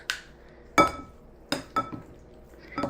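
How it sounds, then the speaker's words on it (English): Beef strips are tossed in a bowl, giving a few separate clinks and clatters of utensils against the dish with short gaps between them, close and fairly loud. "So we will just mix this up a bit."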